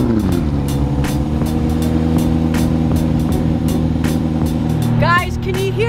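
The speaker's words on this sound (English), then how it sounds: "Guys, can you hear the sound of that engine?" A roofless 810-horsepower McLaren supercar engine idles with a steady low rumble and layered drone, loud and close throughout, with a voice talking over it near the end.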